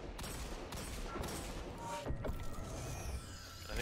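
Rapid bursts of video game gunfire rattle along at a low level, with a few sharper shots standing out midway and no talk over them.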